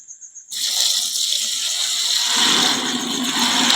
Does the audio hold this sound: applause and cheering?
no